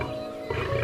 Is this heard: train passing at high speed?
no